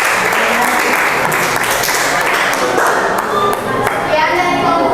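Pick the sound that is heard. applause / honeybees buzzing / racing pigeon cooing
applause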